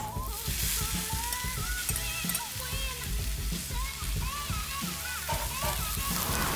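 Noodles stir-frying with pork mince and vegetables for Sichuan pork and peanut noodles, a steady loud sizzle with scraping, stirring clatter throughout, under background music.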